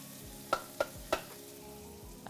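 Shallots and garlic sizzle in hot olive and grapeseed oil as a steady frying hiss. Three sharp clicks or taps stand out early on, as if from a utensil against the pan.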